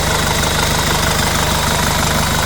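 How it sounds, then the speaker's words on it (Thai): A Nissan YD25 diesel engine idles steadily in a Nissan pickup, a continuous low rumble with a faint knocking texture, close and unbroken with no voices. "เครื่องยนต์ YD25 นิสสันพีเอ็มคอนเทรีย"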